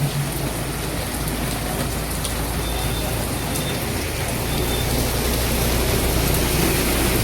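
Heavy rain pours onto a flooded road in Radhanpur, a dense, continuous, loud hiss of drops and splashing water, steady throughout, with faint distant rumbling beneath it.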